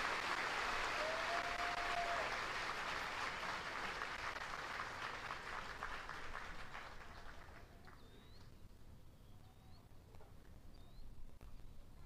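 Steady crowd applause at an outdoor Army basic training graduation and retirement ceremony honoring retirees and their families, loud at first and gradually thinning, with faint bird chirps in the background.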